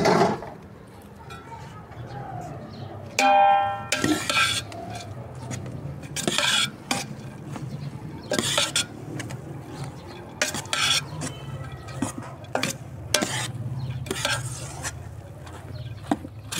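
Dahi bhalla mixture being stirred in a bowl with a spoon: repeated wet scraping strokes and clinks against the bowl, with brief kitchen clatter in between.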